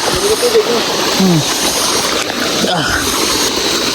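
River water rushes and splashes steadily and close, a continuous loud wash with a few faint chirping calls and indistinct voices mixed in.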